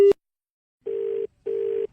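A telephone line after the caller hangs up: a short initial click-tone, a pause, then two evenly spaced steady beeps of about half a second each, clear and alone with no voices.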